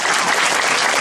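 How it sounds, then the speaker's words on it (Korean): A crowd at a political campaign event in Jongno, Seoul, breaks into dense, steady applause, loud and close, filling the brief moment with no voices standing out. "다시 한번 큰 박수 부탁드리겠습니다"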